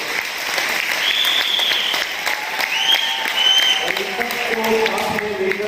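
Loud, sustained applause from an audience at a business celebration event in Hisar, steady clapping throughout with a voice speaking over it.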